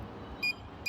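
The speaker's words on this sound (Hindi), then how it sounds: "बीप की आवाज़ आ रहा है" A multimeter set to continuity mode sounds a short electronic beep as its probes touch a changeover switch's contacts, with two brief tones half a second apart over a low background hum.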